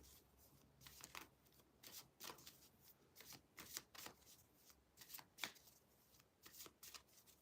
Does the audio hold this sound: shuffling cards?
yes